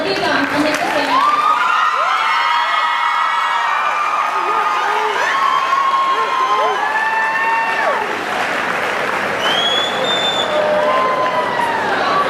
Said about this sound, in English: let's all please applaud Olivia Young and Nick Casano